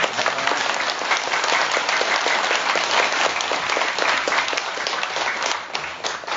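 Audience applause for a visiting monk after a Dharma talk at Jeungsimsa Temple on Mudeungsan, a dense, steady crowd clapping that stays loud throughout and eases slightly near the end.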